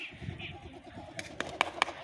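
A pigeon on a rooftop gives soft bird sounds over faint outdoor ambience, with a few sharp fluttering bursts near the end, close and moderately quiet.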